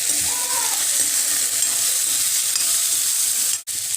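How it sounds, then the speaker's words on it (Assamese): Jackfruit seeds and fried onion crackle loudly in a hot pan, a dense, continuous close-up sizzle with no voices, cutting out abruptly near the end. "এতিয়া মোৰ পিঁয়াজখিনি ভজা হৈ গৈছে আৰু ইয়াত দি দিছোঁ এতিয়া মই কঁঠাল গুটিখিনি"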